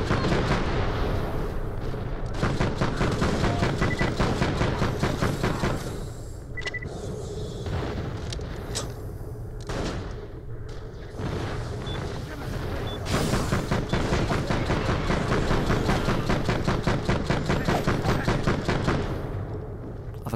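Rapid gunfire and heavy booming blasts from the shooter video game Borderlands The Pre-Sequel, sustained bursts of shots with brief pauses, loud and dense, layered over game sound effects.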